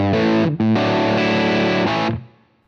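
An electric guitar played through a UAFX Lion Plexi amp modeler pedal on its Greenback cabinet setting gives a loud, distorted, sustained chord phrase with a slightly dark tone, ringing briefly before fading out.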